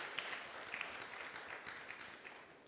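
A church congregation claps during an Easter sermon, a soft, even spread of applause heard fairly distantly, with no voice over it.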